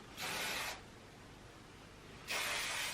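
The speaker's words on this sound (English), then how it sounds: "I'm getting my hairspray, and then I'm just kind of spraying and then trying to stick them." Hairspray from an aerosol can sprayed onto a donut hair bun in two short hissing bursts, each about half a second long, with a quiet pause between them.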